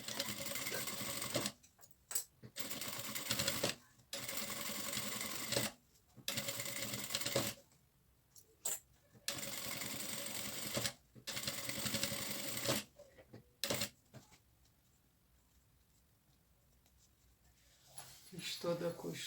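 A sewing machine stitches a 1 cm seam on fabric for a cloth folder with an adjustable strap, running in several bursts of steady whirring separated by short pauses, then falling quiet near the end.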